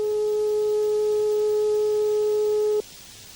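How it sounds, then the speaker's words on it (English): Hearing test tone: a single pure steady beep held for nearly three seconds, then cut off abruptly, clean and loud with no voices. "Listen to the following tones."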